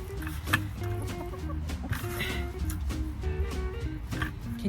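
Backyard chickens cluck repeatedly and close by, a busy overlapping run of short clucks from several birds with a steady low rumble beneath, no talking.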